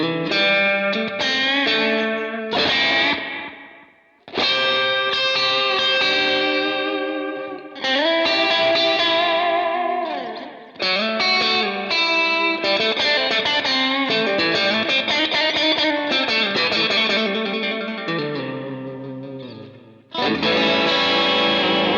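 An electric guitar on its middle pickup plays chords and riffs through a Line 6 POD GO modelling a VOX AC30 amp, with breakup grit and chorus-like shimmer, loud and continuous with brief gaps between phrases.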